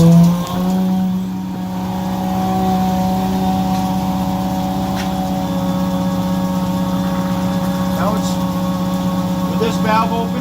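A Butler truckmount carpet cleaning system starts up and settles into a loud, steady engine drone with a constant tonal whine, running continuously with faint clicks and voices in the background.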